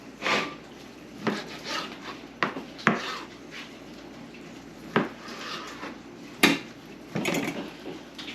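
A knife cuts through a deer's hind leg meat into steaks on a board, giving scattered sharp knocks and scraping strokes at irregular intervals, close and fairly quiet.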